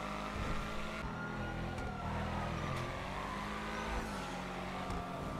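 A fast, tuned car's engine accelerates in GTA Online, a continuous loud revving roar with shifting pitch across the whole stretch, no voices over it.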